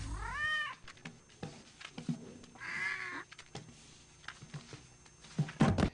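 A cat meows several times close by, a few drawn-out cries separated by quieter pauses and soft rustling.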